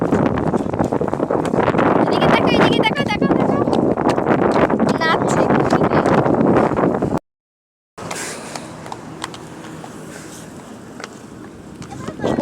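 Strong wind gusts roar across the microphone on the Rupsha bridge, a loud continuous rush that carries on over people talking, broken by a short cut of silence.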